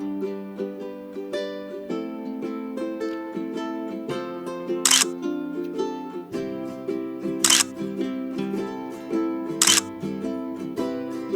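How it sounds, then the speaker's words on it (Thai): Three sharp camera shutter clicks, evenly spaced, snap out for a selfie over steady background music in a Korean pork barbecue buffet restaurant. "ถ่ายรูปส่งนิดหน่อยครับเซลฟี่ครับ"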